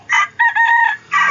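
A rooster crows in several bursts, close and loud, with a short pause between the first call and the longer drawn-out crow that follows.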